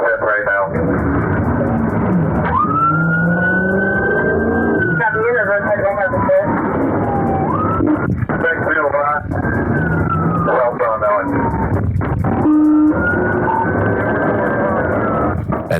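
A police cruiser's siren wails and yelps loudly and continuously during a high-speed chase after a Hellcat, with voices talking over it throughout.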